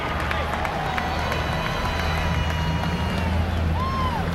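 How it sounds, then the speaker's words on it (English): Crowd at a 1996 pro stock tractor pulling event in Louisville, Kentucky, applauding and cheering for puller Sue Ellen Oswald, a steady wash of noise from a large arena audience with engine drone underneath. "Let's give her a nice round of applause"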